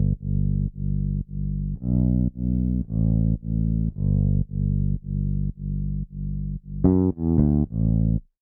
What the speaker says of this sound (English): The major thing that was added here is just the bass line, combination of both the bass and the log drum.